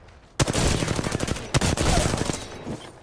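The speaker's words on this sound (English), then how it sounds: "Shots fired, and they're hitting me" Automatic weapon fire in Apex Legends, two sharp bursts of rapid shots separated by a brief gap, then scattered trailing pops and echo, loud and near with no speech.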